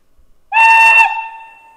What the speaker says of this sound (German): Beginnen wir mit dem Pfiff